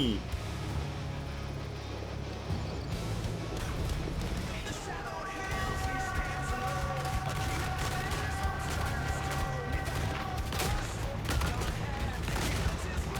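Massed musket and gun volleys crackle in a Total War: Warhammer 3 battle, a dense, continuous rattle of shots that runs throughout with a few tonal tones layered over the barrage.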